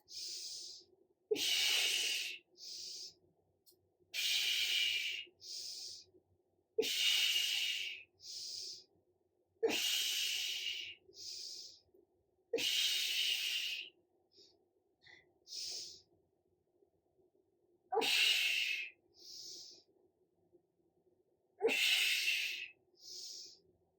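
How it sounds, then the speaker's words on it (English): Slow, deliberate breaths in and out during a hovering core exercise, heard up close as about eight airy, hissing exhales spaced a few seconds apart, with quiet pauses between and no talking. "This would just be hover, breathe in and out."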